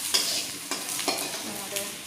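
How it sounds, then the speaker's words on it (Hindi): Onions browning in a pan for macaroni, a close continuous sizzle with a few light stirring scrapes and taps spaced through it. "यहाँ पर जो है अब मैकरोनी के लिए प्याज ब्राउन हो रहा है"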